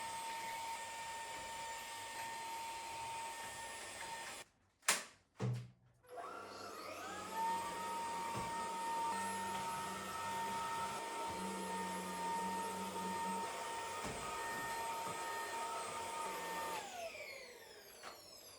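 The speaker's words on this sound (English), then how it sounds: "Once all 4 holes are drilled, clean up the mess. I used this awesome vacuum that was the best value for the price." A household vacuum cleaner sucks up drilling debris from four holes bored in an IKEA Sundvik crib frame, starting after a few knocks and running at a steady, close, loud whine for about ten seconds before winding down.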